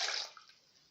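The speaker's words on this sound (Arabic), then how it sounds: "معانا كوبايه ميه اهي نحطها الاول" Water poured from a cup into a dough mixture of spices and flour in a home kitchen, a brief bright splashing pour that fades out within a second, no talk.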